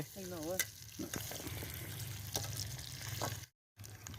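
Potatoes frying in oil at an outdoor New Year picnic produce a moderate, continuous sizzle with some stirring, while a brief voice and background chatter sit on top; a short gap interrupts it near the end.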